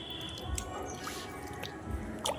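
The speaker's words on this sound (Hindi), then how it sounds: "तो इस तरह से सारे फलों को धो लिया जाता है, पानी इसका निथार लिया जाता है" Fruits are rinsed in water for a Chhath puja offering, with soft drips, splashes and squishy wet handling sounds coming in scattered bursts over low background noise.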